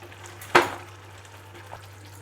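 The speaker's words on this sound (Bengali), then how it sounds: "মাছগুলো দেওয়ার পর এটাকে আমি হালকা করে নেড়ে দিচ্ছি।" A utensil stirs pieces of fish in a pan for a Bengali doi katla fish curry, giving one sharp clack followed by a faint, low sizzle.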